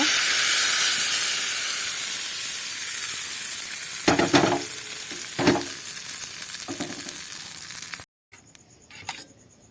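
Hot fried tempering sizzles loudly as it pours into coconut chutney for idli, a steady hissing fry with a few bursts of crackle, then cutting to quieter clinks and light stirring near the end.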